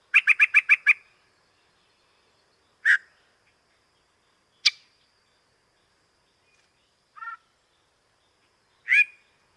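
A male yellow-breasted chat sings in separate bursts: first a quick run of five or six rapid chirps, then single sharp calls and short phrases spaced several seconds apart. They ring out clearly against deep silence, with no voices present.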